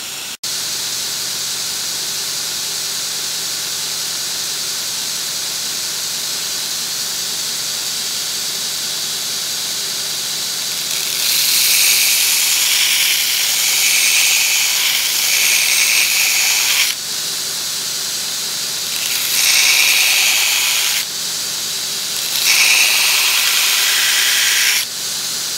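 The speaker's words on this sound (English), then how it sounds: "we're just going to put this on here and begin to grind our bevel in." A grinder cuts a single bevel on a hook knife set in a jig at about 11 degrees: a steady loud motor hiss, with three long bursts of harsher, brighter grinding as the blade is pressed to the wheel.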